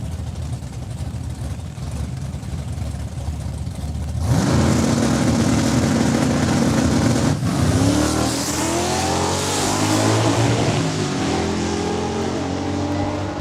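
A Corvette and a Plymouth Barracuda launch at a drag strip in Saskatoon, engines roaring loudly from a steady rumble into a sudden burst of acceleration, revs climbing and shifting as they pull away.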